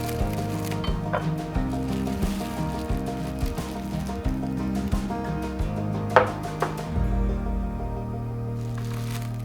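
A knife cuts a wrapped carrot rapé sandwich in half, giving a series of crisp, rhythmic crunching chops close up and loud, then a brief pause before a final slice, with no talking.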